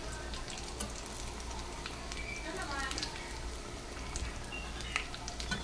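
Chicken potato drumsticks frying in oil, a continuous close sizzle and crackle with faint scattered pops, steady in level throughout.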